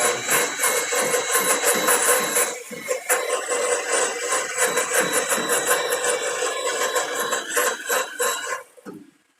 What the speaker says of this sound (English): just take this little wire wheel